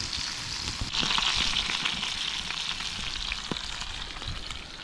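Trout sizzles steadily in a hot pan outdoors in the Montana alpine backcountry, a constant crackling hiss with occasional pops and a brief scrape, close to the microphone.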